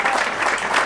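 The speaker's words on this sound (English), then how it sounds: "And one more round of applause." Audience at a storytelling event giving a round of applause, a dense, continuous wash of clapping for about a second.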